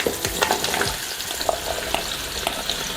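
Pumpkin, onions and garlic go into hot oil in a pot together and fry with a bright, close sizzle, broken by quick scraping stirs and small spattering pops.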